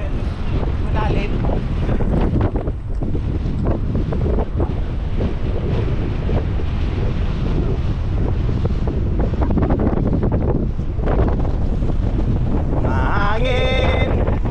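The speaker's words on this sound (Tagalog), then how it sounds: "Hangin." Strong wind buffets the microphone during a holiday motorbike ride and jump session, a loud continuous roar with gusty rumbling throughout and brief voices near the end.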